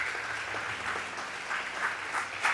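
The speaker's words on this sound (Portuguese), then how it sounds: "Vamos aplaudir o nome do Senhor Jesus, bem forte." Church congregation clapping loudly and steadily at a Sunday service, a continuous wash of applause with no speech over it.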